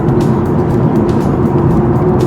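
Ford Mustang driving on the road to Aspen, a steady close engine and road rumble holding constant and loud throughout, with no talk over it.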